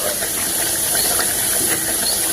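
Chirote, layered Maharashtrian pastries, deep-frying in hot oil give off a dense, continuous sizzling hiss that stays loud and steady throughout, with no talking.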